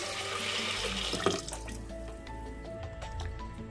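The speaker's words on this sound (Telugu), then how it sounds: "ఒక నాలుగు గ్లాసుల నీళ్ళు వేసుకునండి" Water pours and splashes into a metal pressure cooker nearby, settling into a hollow, ringing fill with a few drips.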